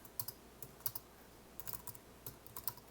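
Typing on a computer keyboard while setting up window film software, quick soft clicks in uneven bursts, faint and close, with no voices.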